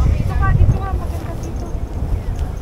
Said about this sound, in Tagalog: Lakas ng hangin mga tolits.